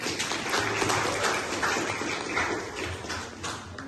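A classroom group applauding together after a chant in a school lesson, a steady wash of dense clapping that carries through the whole stretch at fairly even loudness.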